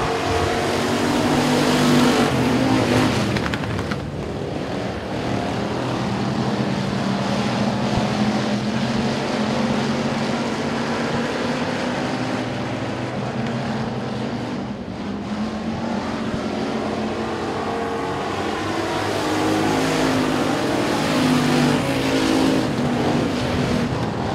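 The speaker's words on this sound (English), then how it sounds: "Green flag is in the air, and we are racing for heat race number two." Race cars at Sabine Speedway roar around the track during a heat race, a loud continuous engine drone that swells and fades as the pack passes, with no voices over it.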